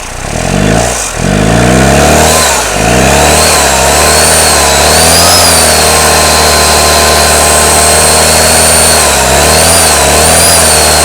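A Toyota Hilux pickup engine is revved several times, loud and close, its pitch rising and falling in repeated surges over a rough steady idle.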